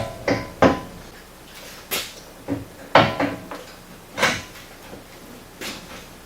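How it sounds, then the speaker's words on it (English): A Pro Armor full door is slid onto a Polaris RZR 900S side by side. About a dozen close, sharp plastic-and-metal knocks and scrapes come in an irregular series with short quiet gaps, and there is no talking. "this door is just going to slide on just like the factory door slid off"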